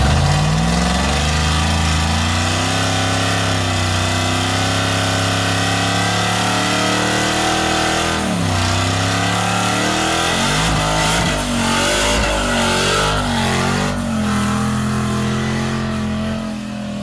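A supercharged sleeper work van roars through a burnout, its engine revving hard and steadily for the whole stretch, the pitch dipping and climbing with loud, sustained exhaust close by.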